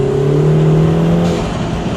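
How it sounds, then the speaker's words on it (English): A loud, close turbocharged four-cylinder engine and exhaust drone from inside a 2025 Lotus Emira, with a steady tonal turbo whine that fades slightly toward the end. "the noise that comes through these windows from that turbo, from that exhaust"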